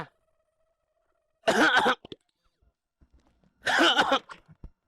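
Two separate loud coughs from one man, close up, each a short harsh burst with quiet between them and faint small noises after.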